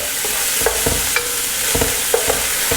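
About 200 grams of finely chopped beans being stir-fried in a pan for mixed fried rice, with a steady sizzle and repeated scraping strokes of a spatula, close and loud, no voices.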